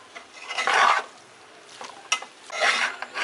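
Veg chowmein coated in Schezwan chutney is stirred in a pan, making two bursts of close, rasping scraping and tossing noise with a brief clink in the quiet gap between them.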